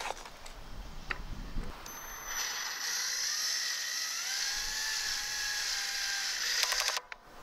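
Power tool on a low torque setting driving blade assembly bolts, a steady high whine running for several seconds close by, ending in a quick ratcheting clatter as it stalls out.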